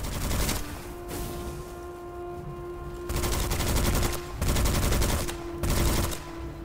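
Gunfire from the video game Witchfire comes in rapid automatic bursts, several loud close volleys separated by short pauses, with a steady tonal hum underneath.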